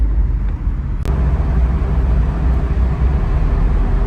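Honda S2000 convertible driving with the top down, a steady, loud rush of engine and road and wind noise throughout, with one brief sharp click near the start.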